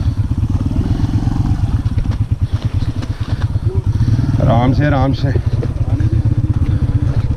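A motorcycle labors up a slope of icy, crystalline snow on the way to Ganga Choti in Azad Kashmir, its engine thumping and revving unevenly as the tire struggles for grip while someone speaks briefly over it.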